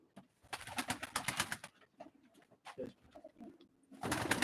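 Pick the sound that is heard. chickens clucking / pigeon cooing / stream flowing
pigeon cooing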